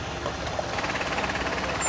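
A petrol-fuelled boat engine with a silver propeller starts up and runs steadily on a river, a continuous loud mechanical rumble and clatter filling the clip.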